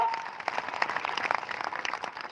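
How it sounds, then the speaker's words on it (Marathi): A crowd at a Shri Sant Balumama birth-anniversary festival in Adampur claps to welcome the palanquin officials, a steady burst of applause lasting a couple of seconds. "तिघांच्या त्याळ्या वाजून टाळ्यांच्या गजरात स्वागत करा"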